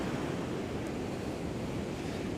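Ocean surf breaking on the shore under a gusty wind as a squall line moves in, a steady loud wash of waves with wind buffeting the microphone.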